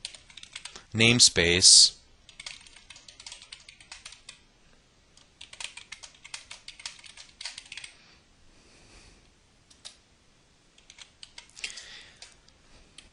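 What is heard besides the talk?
typing code on a computer keyboard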